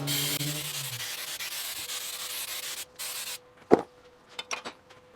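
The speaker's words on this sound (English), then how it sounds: "give this a good squirt off with some brake cleaner" Brake cleaner sprayed from an aerosol can onto the front brake caliper of an MG3 in one long, loud, close hiss that cuts off, followed by a few sharp clicks and knocks.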